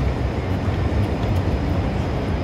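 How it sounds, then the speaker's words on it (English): A Chicago L elevated train passes above the street downtown near Lake Street and Wabash Avenue in the Loop, giving a steady, loud rumbling roar that fills the whole stretch without any talking. "Look how beautiful the elevator train is. They call it L for short. It's elevated and it keeps going in circles here"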